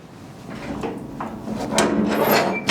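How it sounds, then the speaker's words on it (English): Rubbing, scraping clatter as an SCBA fill station door is pushed shut and locked at a fire department, a few close knocks and slides building to a louder final thud. "Close and lock the fill station door."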